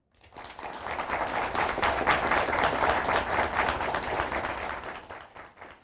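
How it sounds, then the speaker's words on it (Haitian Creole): A crowd applauds steadily for several seconds, dense clapping rising quickly and holding at a strong level before easing off at the end. "nous accueillons l'agronome Thomas Jacques, un ex-ministre que l'on applaudit."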